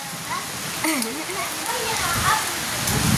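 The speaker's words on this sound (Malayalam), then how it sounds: "റോഡ് ഒലിച്ച് പോവുകയാണ് മഴ അങ്ങനെ പെയ്തിട്ട്" Heavy monsoon rain pours down steadily, a dense broadband wash of falling water with runoff over a road, while someone talks over it throughout.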